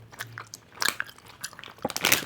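Someone chews a Roshen Yummi Gummi cherry gummy candy, giving a series of soft, close, irregular bites and squelchy crunches that come in uneven bursts with no talking.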